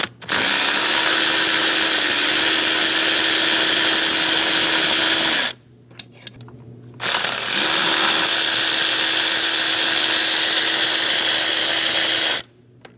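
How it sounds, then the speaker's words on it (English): A power tool, likely a cordless impact driver or drill, backs bolts out of the intake manifold on a 2011-2018 Ram 1500 with a 5.7L V8, running loud and steady in two long bursts separated by a short pause with small clicks. "Remove those last 2 bolts."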